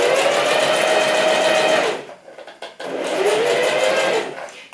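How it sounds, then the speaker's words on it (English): A sewing machine stitching fabric at a slow, careful pace near the fabric edge, a close, loud steady whirring hum that stops briefly for a pause and then starts up again. "this sewing machine's really fast, we want it to go slow today so that we can keep everything nice and tidy"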